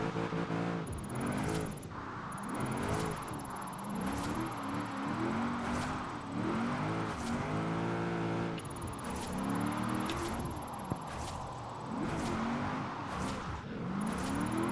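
Car engine revving in Forza Horizon 4 with an all-motor drift build, rising and falling in steady repeated pulls through the gears, loud and continuous with tire whir throughout.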